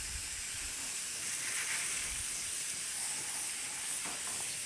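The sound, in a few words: water rinsing pea seeds in a strainer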